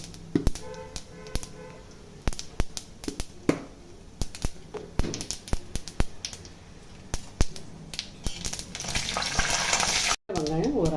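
Spinach and small onions sautéing in a frying pan for keerai kuzhambu, with repeated sharp taps of a spoon against the pan over a steady low sizzle, close and fairly loud.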